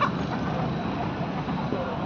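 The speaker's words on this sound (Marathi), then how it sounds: "तर इथं आहेत कोंबड्या आहेत, कोंबडा पण आहे।" Free-range country hens and a rooster cluck continuously at a poultry seller on Hinjewadi road, a dense, close flock chatter throughout.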